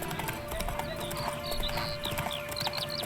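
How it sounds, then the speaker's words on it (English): Quick hoofbeats from a horse spooked by ghosts in The Witcher 3, with a whinny rising over a steady musical hum, all close and clear. "Spooking my horse."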